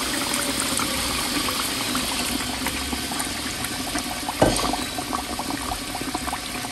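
Juice of three oranges poured into a cooking pot where a dish has simmered for about an hour, giving a steady liquid splashing and bubbling wash with one brief louder splash near the middle.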